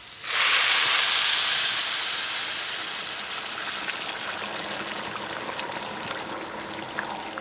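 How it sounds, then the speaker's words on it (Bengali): Heated water poured onto rice frying in a pan sets off a sudden loud hiss of steam that holds strongly for a couple of seconds. It then settles into a steady, softer sizzle and bubbling. "গরম করা পানিটা দিয়ে দিব।"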